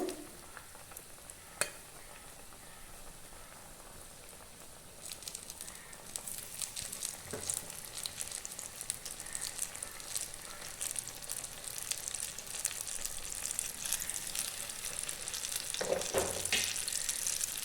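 Banana pakoras coated in biscuit crumbs sizzle and crackle in hot oil, starting quietly, then swelling into a dense, steady frying hiss after a few seconds with sharper pops scattered throughout; no talking.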